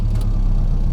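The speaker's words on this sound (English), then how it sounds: "the AC compressor just came on" A classic Mini Cooper automatic runs at idle with its air-conditioning compressor engaged, giving a close, steady, loud low-pitched engine hum with a faint rhythmic pulsing throughout.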